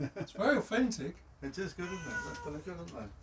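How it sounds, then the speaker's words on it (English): A cat meows repeatedly, close by, while people talk over it. "We haven't fed him today, so he keeps meowing."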